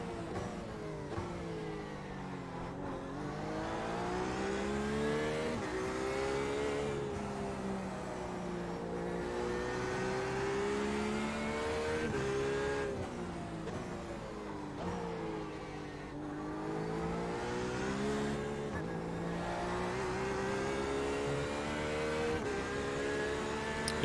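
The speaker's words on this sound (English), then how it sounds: "Yeah, I do love the sound of this car" A GT race car engine in the iRacing simulator drones steadily through the whole stretch, with repeated rising and falling revs as gears shift, loud and continuous with no talking over it.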